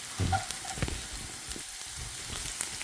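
Onions fry in a pan that has not yet fully heated, giving a soft, quiet crackle with a few stirring knocks and no talking.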